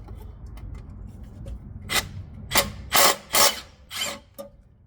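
Several short bursts of a hand ratchet clicking as it loosens the 10 mm side bolts of an oil pan, in separate quick runs over a quiet background.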